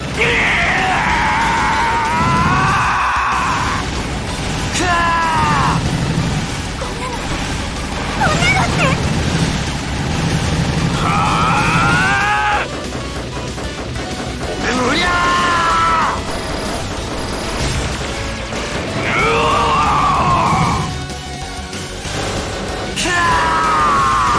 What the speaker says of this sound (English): once Viridian and Alex run out of things to say, they start having a screaming match